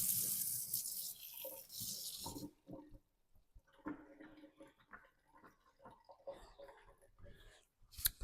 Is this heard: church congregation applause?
no